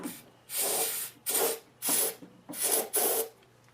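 Engine starting fluid sprayed into the open spark plug hole of a Toro CCR snow blower cylinder, with five short hissing bursts of aerosol spray in quick succession, close and clear.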